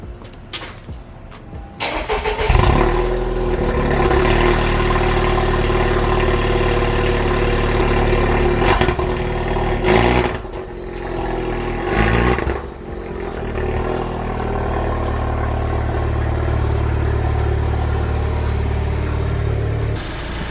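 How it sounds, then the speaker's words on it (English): A Honda Civic Type R engine cold-starts: cranks briefly, catches and roars to life, then settles into a loud, steady rumble with a couple of dips and revs, nearby. "let me back out the car, give you guys a cold start"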